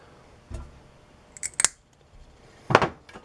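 Scissors snip off the excess end of a pull-start rope during a repair, with a few sharp, close clicks and snaps spaced over a few seconds and no talking.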